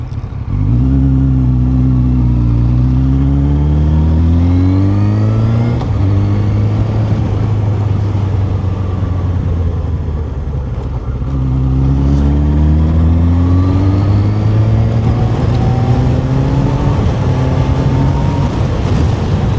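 A motorcycle engine revs loudly and close, climbing in pitch through several long sweeps, easing off and then building again, with no other sound.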